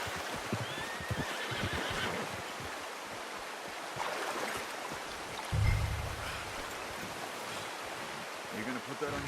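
A horse neighs in the Red Dead Redemption 2 video game over steady outdoor ambience with a water-like wash, and a low thump comes midway.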